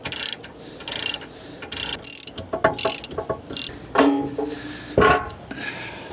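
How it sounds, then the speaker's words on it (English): A ratchet tightens the bolts on an Andersen Ultimate 5th Wheel Connection Gen 3 hitch, making bursts of quick metallic clicking in short rhythmic strokes. The clicks are close and loud, with brief pauses between turns. "Then you will tighten the back two bolts to torque."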